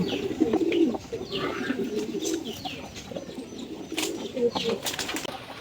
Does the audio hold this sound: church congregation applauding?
no